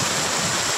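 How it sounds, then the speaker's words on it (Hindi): A mountain stream of water rushes in a steady, loud, broadband wash with no voices, close by and continuous. "गजब का पानी आ रहा है ना।"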